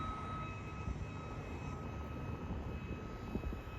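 Small helicopter, likely a toy or drone type, flying with a steady engine drone and faint high whine, heard at moderate distance against rushing wind noise.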